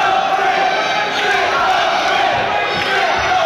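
Steady roaring crowd at a live Irish professional wrestling event, loud and continuous cheering and shouting filling the space with no breaks.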